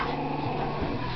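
A Chihuahua puppy about four weeks old gives a continuous low rumbling growl, close and steady throughout the brief moment.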